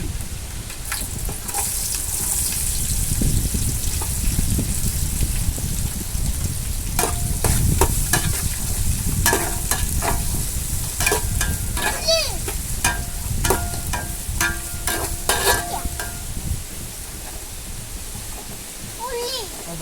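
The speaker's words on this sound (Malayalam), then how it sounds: "അടുത്തതായിട്ട് നമുക്ക് ഉള്ളി ഇടാം കേട്ടോ" Onions fry in hot oil with fenugreek seeds for egg curry, with a steady sizzle, spatula scrapes and clinks on the pan, while a person talks over the cooking.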